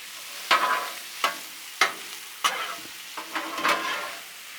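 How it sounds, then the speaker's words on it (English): Smoked sausage pieces sizzling in oil on a Blackstone griddle, a steady close fry broken by several sharp scraping stirs of a spatula. "So now just take your sausage and just dump it on that griddle"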